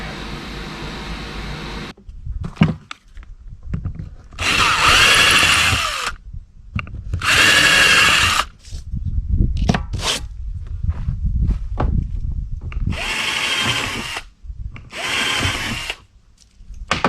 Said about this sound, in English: Gotta line this up and drill a couple holes.